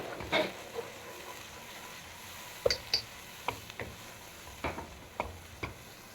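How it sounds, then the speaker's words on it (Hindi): Masala with turmeric and salt fries in a pan, a low sizzle broken by sharp clinks and scrapes of a spoon stirring at irregular intervals, close up with no talk. "मसाला फ्राई हो रहा है"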